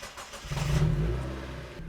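An abandoned NB Miata's engine revs up as the car pulls away, a mid-pitched drone rising then easing back over two seconds, close and fairly loud.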